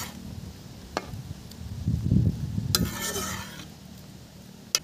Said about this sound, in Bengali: এদিকে ঝোল ফুটে গেছে, দিয়ে দিচ্ছি আমি সেদ্ধ করা ওল ডাঁটা